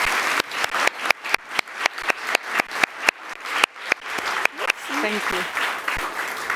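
An audience at a conference interview ahead of COP28 applauds, with closely spaced, steady claps that are loud and near. A voice speaks briefly as the clapping fades toward the end.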